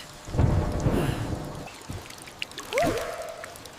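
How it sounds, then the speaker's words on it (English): Rain falling steadily, with rumbling thunder rolling in and fading, under a cartoon scene of a flooded house; a couple of brief squeaky effects sound on top. "The rain's not stopping yet."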